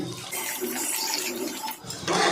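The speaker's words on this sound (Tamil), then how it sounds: "தண்ணி நான் ஒரு இரநூத்தி ஐம்பது எம்எல் சேர்த்துக்கிறேன்" Water poured from a container into a whole fish curry masala in a pan, a steady continuous rushing splash that holds for about two seconds and swells louder near the end.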